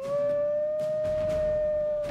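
A dog howls in Dragon's Dogma 2, one long sustained steady wail running nearly the whole moment, loud and close over faint game ambience.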